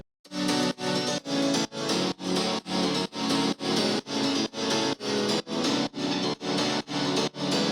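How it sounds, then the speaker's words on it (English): Pulsing house piano chords, processed and sidechained so each chord swells and ducks in a steady rhythmic pump, loud and alone. "And altogether, the pianos sound like this."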